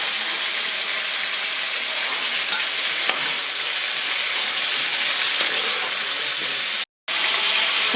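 Fish fries in hot oil with chilli, a dense, continuous sizzle and crackle, loud and close, briefly cutting out near the end.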